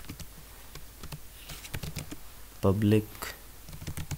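Rapid clicks from a computer keyboard as code is typed, a steady patter of keystrokes running under someone speaking Hindi.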